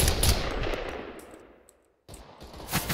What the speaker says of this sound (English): Hey, I'm being shot at.